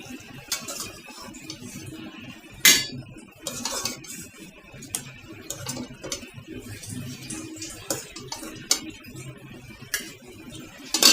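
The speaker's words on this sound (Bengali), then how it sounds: "বাটিতে আমি মাছটা তুলে নেব।" Cooked, simmered fish being lifted from a pot into a bowl, with scattered metal clinks and scrapes of a utensil against cookware, close and moderately loud over a faint kitchen background, no talking.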